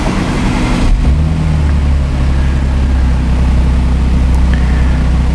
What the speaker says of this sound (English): so I heard the engine rattle a little bit